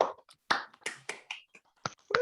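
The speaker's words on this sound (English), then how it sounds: "Let's do one more round of applause." A few scattered claps and snaps from an online audience unmuting for one more round of applause, sparse and irregular, with quiet gaps between the hits.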